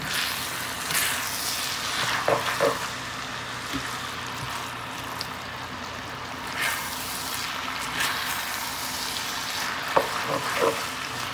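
Tex Mex skillet with fresh corn frying in a cast iron pan: continuous close sizzle with occasional soft stirring scrapes, no talking.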